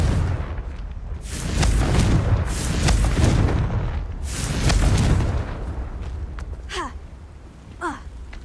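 Confringo fire spells from the Hogwarts Legacy video game go off as two rolling, swelling blasts a few seconds apart, followed by a couple of quick whooshing sweeps near the end.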